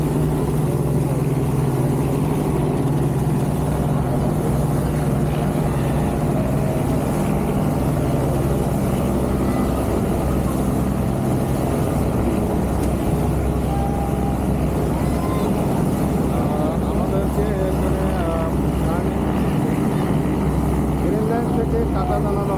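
River passenger ships Carnival Cruise and Green Line 3 run under way on the Bhola–Ilisha route during an Eid trip, giving a steady, loud, unbroken engine drone with hull and water rumble throughout.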